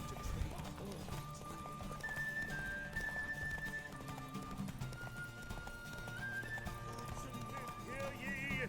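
Galloping hoofbeats from Geralt's horse Roach in a video game race, a steady clip-clop rhythm running throughout beneath game music and occasional voices.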